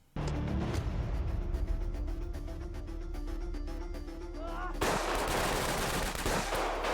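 A submachine gun fires in rapid bursts during a scene from the Thai series Kinnporsche, coming after a stretch of tense music and tonal effects. The shots are dense, loud and cut in abruptly near the end.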